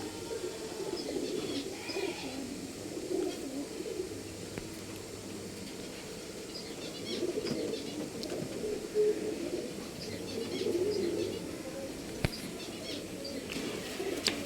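Pigeons cooing in a loft of birds kept for sale in Bangalore, low soft coos repeating steadily through the clip with faint rustling and occasional wing movement in the background.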